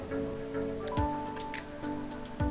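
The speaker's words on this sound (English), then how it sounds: "Low visibility. Let's see how it's looking. There's the rain." Steady patter of rain with scattered droplet ticks over a low engine-like hum, continuous throughout, in a flight simulator game in low visibility.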